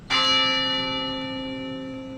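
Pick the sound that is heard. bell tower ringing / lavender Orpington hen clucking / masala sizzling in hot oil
bell tower ringing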